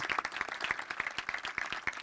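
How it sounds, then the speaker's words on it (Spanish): Brisk applause from a small audience at a contract signing with festival artists in Río Gallegos, dense sharp claps with a few louder hands standing out, steady for two seconds. "Le damos un aplauso a todos los artistas"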